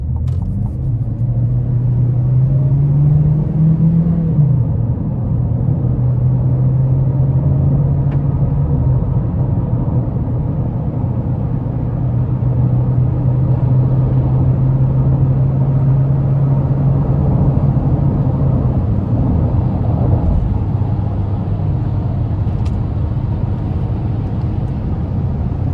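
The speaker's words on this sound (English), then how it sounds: "I'm gonna give it a pull getting on the interstate here." A 2027 GMC Terrain AT4 AWD accelerating up an interstate on-ramp, its engine note a steady low drone that rises and holds under constant road and wind rumble inside the cabin, with no talking.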